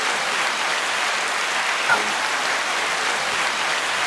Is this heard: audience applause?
yes